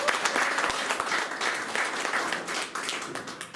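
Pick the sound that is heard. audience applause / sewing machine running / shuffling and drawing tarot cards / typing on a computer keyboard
audience applause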